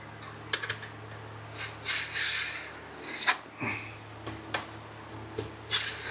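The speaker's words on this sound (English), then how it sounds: "rub it down the side, take the file, whoa, I can feel that just coming off" A metal file rasps a burr off the side of a rail in short, uneven strokes, several separate scraping bursts close by, with no talking.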